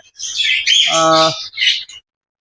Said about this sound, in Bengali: এই হচ্ছে পাখিটা বর্তমানে আমাদের কাছে আছে